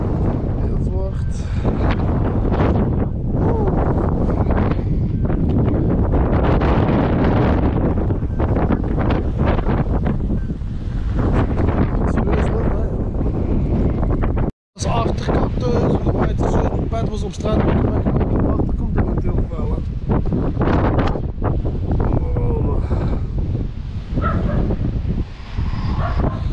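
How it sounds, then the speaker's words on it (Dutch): Heavy, roaring wind of Storm Eunice buffets the microphone almost nonstop in Hoeselt, Limburg, Belgium, with a voice talking over it and a dog barking somewhere in the mix. "Het is meer wind gekomen nu."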